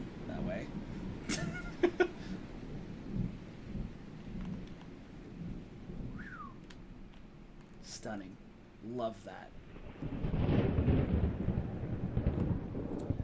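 A tornado-like waterspout roars in the Minecraft Wildborne modpack amid storm noise, building into a loud broad rush near the end, while a person talks briefly over it.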